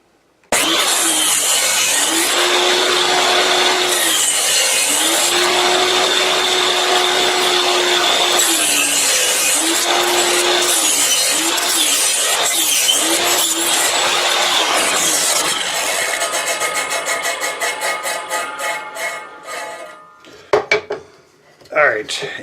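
A saw cuts tenon joints on a tenon jig with a loud continuous whine that rises and falls through several passes, then spins down and stops, followed by a few clunks.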